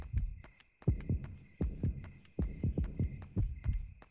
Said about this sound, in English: You can have a heartbeat